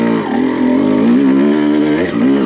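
Honda CR250 two-stroke motocross bike revving hard on a steep hill, a loud, close, continuous raspy engine note that wavers with throttle changes.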